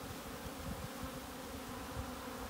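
Many honeybees flying around an apiary, some landing on the ground near the hives in early spring, producing a continuous droning buzz with nearby bees passing, and no voices.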